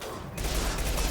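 SMG fire in the video game Mass Effect 2 on Insanity difficulty, a sudden dense burst of rapid gunfire that starts a third of a second in and continues loudly to the end.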